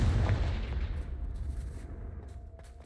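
A Confringo fire curse in the Hogwarts Legacy video game lets out a heavy, booming blast that rumbles low and fades across a few seconds, with faint crackling tails and no voice.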